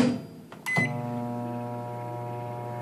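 A microwave oven running while heating semi-sweet chocolate chips for a chocolate mousse: a door clunk and beep, then a steady close, even hum with no voices over it.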